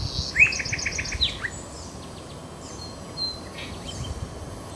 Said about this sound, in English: That's a soft song.